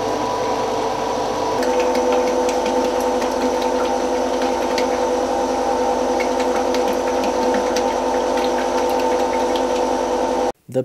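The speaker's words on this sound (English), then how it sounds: "The pure clay is pumped into blue tanks where it is left to ferment." A pump moving liquid clay into tanks at a bead workshop drones loud and steady, a constant mechanical hum with a shift in pitch early on, running without pause until it cuts off at the end.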